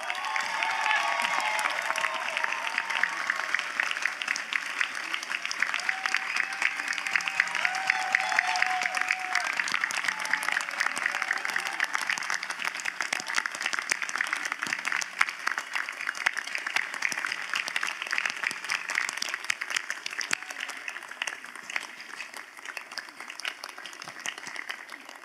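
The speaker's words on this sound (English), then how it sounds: "please join me in one more hearty round of applause for the class of" A crowd at a Stanford International Relations diploma ceremony gives the class of 2019 sustained applause, a dense, even wash of clapping that holds steady for about twenty-five seconds in a large space.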